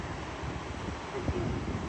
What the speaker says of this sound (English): you hear the waves crashing, the nice cold windy day